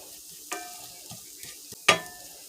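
Pulled jackfruit cooking in a large skillet on a stovetop is stirred with a few distinct scraping strokes, a sharp loud one near the end, over a faint steady sizzle.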